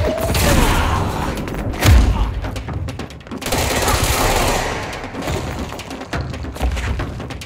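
Third-person shooter gunfire from the game Control: dense bursts of shots and heavy thuds crowd the whole stretch, with a sharp booming impact near the start and steady loud combat throughout.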